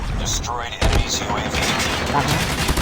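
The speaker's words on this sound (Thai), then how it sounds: "โอ้ปืนลั่นบ่อยจังวะ" Rapid gunfire bursts from an LK-24 rifle in the mobile shooter Call of Duty Mobile during a ranked match, sharp repeated cracks mixed with game effects while someone talks over them.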